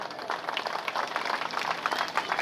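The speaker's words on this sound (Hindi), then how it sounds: "एक बार जोरदार ताली बजाओ।" An audience claps at a Karma Jayanti festival and oath ceremony gathering of the Sahu community in Daniya village, a brisk uneven patter of many hands at moderate volume, continuous and fairly close throughout.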